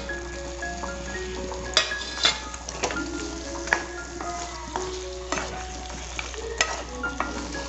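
Boiled mutton is stirred into frying masala for mutton kulambu, giving a steady sizzle with a spoon repeatedly scraping and clinking against the pan, all fairly quiet and close.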